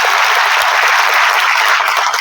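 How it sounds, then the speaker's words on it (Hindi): Dense, steady applause from an audience at a public address by a minister, loud and close, continuing without a break for the whole short stretch with no voices over it. "तालियां बजाएं तो जम के बजाएं"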